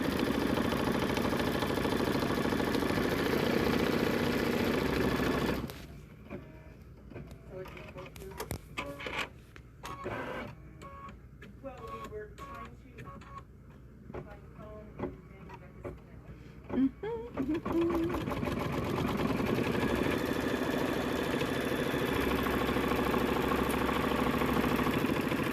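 Embroidery machine stitching down fabric in the hoop for an in-the-hoop project, a steady mechanical whir with rapid repetitive needle ticks running for a stretch between louder background noise.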